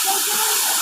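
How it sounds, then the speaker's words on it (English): The Yelapa Waterfall rushes in a loud, constant hiss of falling water, close and unbroken for a brief moment. "The Yelapa Waterfall"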